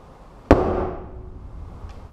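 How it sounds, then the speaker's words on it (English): A cold hydrogen-filled balloon ignited with a match bursts in a single sharp, fairly close bang that decays over a second of rumbling noise, with no voices. "when they put a match to this cold balloon, it didn't make as loud a bang as it did when they used a warm balloon"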